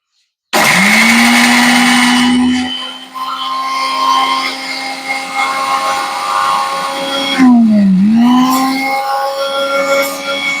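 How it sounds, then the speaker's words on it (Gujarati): A mixer grinder blends chili and ginger into paste, its loud whirring motor starting abruptly, holding a steady drone, then dipping and rising in pitch midway before running on. "મિક્સર નો અવાજ આવ્યો છે"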